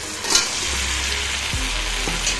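Pieces of potol and potato hiss and sizzle as they are stir-fried in spiced masala in a hot pan, with a continuous close frying crackle and a few scraping stirs.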